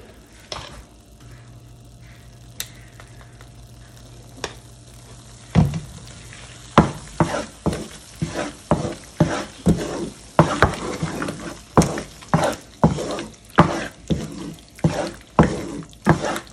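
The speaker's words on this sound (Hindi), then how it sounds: "आप इसी तरह से आहिस्ता आहिस्ता इसको जो है वो भूनते जाएंगे।" Pumpkin halwa stirred and fried in desi ghee: a quiet opening with a few soft taps, then from about five seconds a steady run of rhythmic scraping strokes over a low sizzle, close and fairly loud, with no talking.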